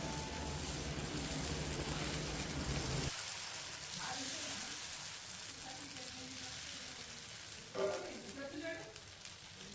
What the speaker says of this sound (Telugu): స్టవ్ మీద ప్యాన్ పెట్టుకొని వేడెక్కాక ఆయిల్ రాసి దోశ వేసుకోవాలి.